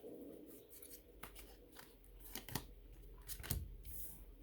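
Tarot cards drawn and shuffled from a deck, giving soft papery slides and flicks with a few sharper snaps, close and quiet against a low steady hum.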